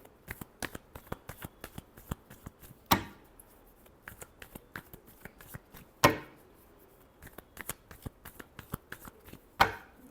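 Tarot cards are shuffled by hand in a rapid patter of soft flicks, broken three times by a sharper riffle-and-bridge snap, close and alone with no talk.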